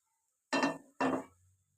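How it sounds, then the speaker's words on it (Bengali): A plate knocks against a pan twice in quick succession while a Spanish omelette is flipped, two short close clinks with brief ringing, surrounded by near silence. "অপর সাইডটা করে নেওয়ার জন্য একটা প্লেট নিয়ে এইভাবে ঢাকা দিয়ে পাল্টে নেব।"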